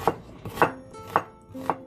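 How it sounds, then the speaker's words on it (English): A knife cuts an onion into thin slices on a board, four crisp, evenly spaced chops heard up close in a quiet kitchen. "And meantime I'm chopping the onion. Just make it thin slices."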